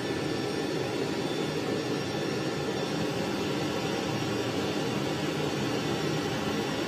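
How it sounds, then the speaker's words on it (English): Jet engine with afterburner in a flight simulator game, a steady loud roaring hiss of even broadband thrust that holds constant throughout, with no talking. "Afterburner comes on a little bit quick"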